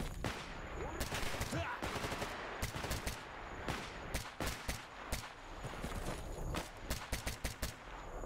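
Rapid machine-gun bursts from the shooter game S.T.A.L.K.E.R., loud repeated volleys of sharp cracks in uneven clusters across the whole stretch, close up and dominating, with no voice over them.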